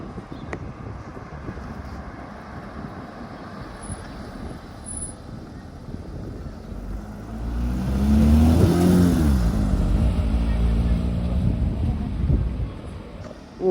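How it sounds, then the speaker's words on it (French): A Porsche 992 GT3 with a manual gearbox drives past at Deauville, its engine note swelling from a distant hum to a close, loud pass and fading again, with wind buffeting the microphone. "Oh, 992 GT3 en boîte manuelle."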